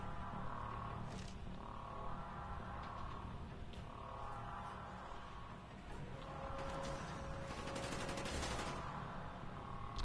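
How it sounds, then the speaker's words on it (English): Enemy gunfire in a Call of Duty Black Ops level: repeated bursts of rifle and automatic shots crackle throughout, some close and sharp, others farther off, over a continuous bed of battle noise. "As you can tell, I am being shot at."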